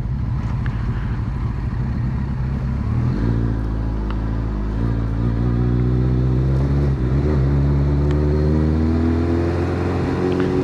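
A Honda Blackbird CBR1100XX motorcycle ridden at slow speed gives a steady, close engine drone that rises in pitch through a gear change about a third of the way in, then holds a smooth hum.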